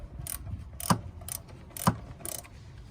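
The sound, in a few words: ratchet removing cam oil plug nut bolt on Toyota Camry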